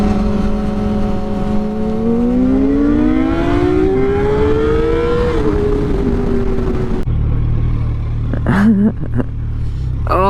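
A FZ1 or R6 sport motorcycle pulls hard in first gear, its loud, close engine note climbing steadily in pitch before easing off, then cutting to a windier scene with a few brief knocks and rustles.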